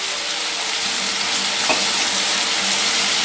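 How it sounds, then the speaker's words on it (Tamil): Dense, continuous sizzling and crackling of chicken frying in a pan, loud and close, with a brief stir partway through. "பாருங்க, அங்கே சிக்கன் பொரியல் பொரிஞ்சு வந்துருக்கு"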